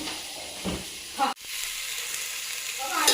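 Onion, ginger and garlic paste frying in a pan makes a soft close sizzle and hiss, with a brief stir clatter partway through and quiet voices in the background.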